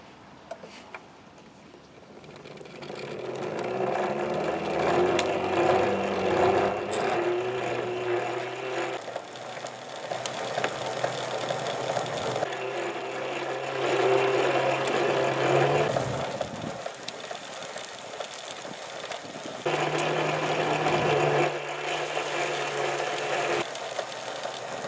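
A mobility scooter transaxle runs on a bench test in several separate bursts, each a steady mechanical whir and hum of gears and motor with faint clicking, starting and stopping abruptly, close by with no talking.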